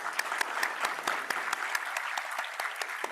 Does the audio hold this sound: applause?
yes